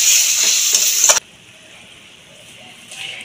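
Masala for a Bengali bhangor fish curry fries with a loud, hissing sizzle for about a second before water poured in cuts it off sharply, leaving a quiet, low simmer.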